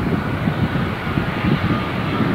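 Jet airliner on runway 24 left at Los Angeles International Airport, a steady low roaring engine rumble with wind noise, heard close and loud.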